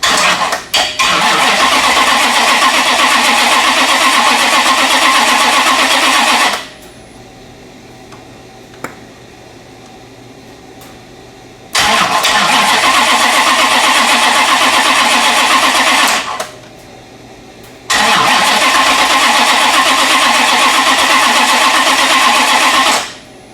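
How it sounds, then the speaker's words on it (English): A front-wheel-drive Grand Prix with an LSX V8 swap cranks over without starting, three long loud starter-motor bursts separated by pauses, with no one talking. "A bunch of batteries connected, and we are in learn, so hopefully she starts up."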